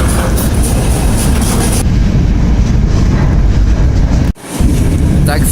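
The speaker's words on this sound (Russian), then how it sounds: "нам прицепили второй локомотив." A freight train with two locomotives rolls along, heard as a loud, constant rumble and roar with heavy wind buffeting, broken by a brief dip near the end.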